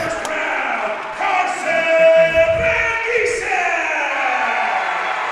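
A high school wrestling crowd at an Evanston vs Green River dual meet cheers and whoops loudly, swelling in the middle and staying noisy throughout.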